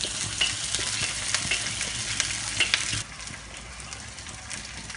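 Nasi biryani is stirred in a cooking pot over heat, giving a dense sizzling, scraping hiss with clinks of the utensil that grows quieter and softer for the last couple of seconds.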